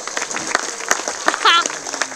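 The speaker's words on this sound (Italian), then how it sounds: "Un applauso al sindaco di Fano." Audience applause for the mayor of Fano at a Crepapelle 2020 show, a short burst of clapping lasting about two seconds that mixes with a voice over a lively crowd.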